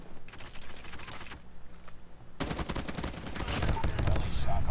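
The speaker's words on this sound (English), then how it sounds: "Stop shooting me in the back!" Gunfire in Call of Duty Mobile, loud rapid automatic bursts, first a sustained volley then a denser, louder stretch of shots with mechanical clatter.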